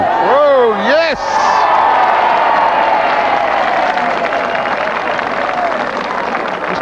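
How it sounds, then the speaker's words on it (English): Massive, sustained applause and cheering from a crowd watching a 1991 bowls match, loud and continuous throughout, opening under an excited voice. "Just wait for that massive applause to die down."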